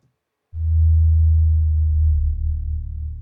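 Deep synthesized bass layer an octave down for cinematic sound design, a single sustained low tone entering abruptly after a short silence and holding steady with a slight waver toward the end, loud and alone.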